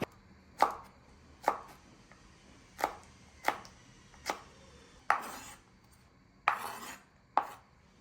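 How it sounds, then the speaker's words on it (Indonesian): A knife chops diagonally through green beans on a cutting board, with eight sharp, evenly spaced strikes ringing out close and clear, alone with no talking. "Selanjutnya potong serong buncisnya seperti ini, atau kalian bisa potong sesuai dengan selera kalian saja."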